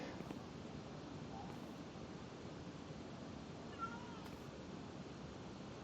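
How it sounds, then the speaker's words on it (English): A cat meows faintly a couple of times in a game world, quiet and distant beneath a steady, muffled background wash. "I keep hearing this cat, and I think it's like my cat"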